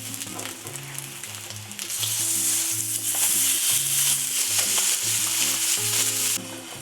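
Spam slices fry in a Teflon pan, a loud steady sizzle close by that swells as the pieces are flipped, with faint low tones running underneath.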